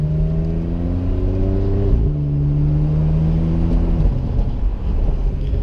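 A wrapped BMW Z4 sports car engine sounds from inside while driving, loud and close, the revs climbing in steady pulls, dropping sharply with each downshift and climbing again, with no talking.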